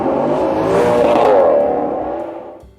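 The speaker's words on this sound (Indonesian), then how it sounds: "Dries mengendarai mobil milik Philip dengan kecepatan tinggi." Car racing at high speed through busy Paris city streets in a film scene, a loud sustained engine roar that swells and then fades away as it passes.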